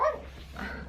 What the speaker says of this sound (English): she just likes to bark when I'm filming